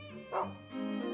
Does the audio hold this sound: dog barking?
yes